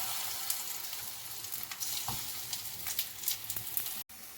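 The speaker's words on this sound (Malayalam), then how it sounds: "നമ്മൾ ഒരു പീസ് ഇതേ ബട്ടർ ഇട്ട് അത് ജസ്റ്റ് ഒന്ന് ചുറ്റി കൊടുക്കുക. എന്നിട്ട് അതിലേക്ക് നമ്മൾ ഓരോരോ പഴങ്ങളെടുത്ത് ഇങ്ങനെ വെക്കുക" Banana slices fry in melted butter in a pan, giving a soft, steady sizzle with light crackles and small taps, fairly quiet and close, ending in a brief silent gap.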